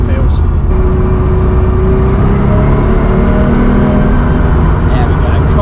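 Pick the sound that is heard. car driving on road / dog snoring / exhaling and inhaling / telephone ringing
car driving on road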